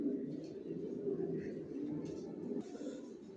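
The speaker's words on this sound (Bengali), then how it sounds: "কোয়ালিটি সম্পন্ন কবুতর পালি, কোয়ালিটি সম্পন্ন বাচ্চা রেডি করি, নিজের লফ থেকে বিক্রি করি।" A flock of racing pigeon youngsters kept in a loft gives off a soft, unbroken cooing drone, with a few faint higher calls near the end.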